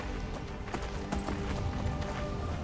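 Horse hooves clip-clop at a brisk, steady rhythm during riding in modded Skyrim Special Edition, moderately loud over a low rumble, with faint voice underneath.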